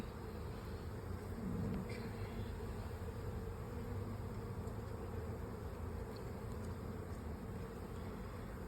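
Honey bees hum in a dense, steady drone at an open hive during an inspection, the buzzing constant and close throughout, with no talking.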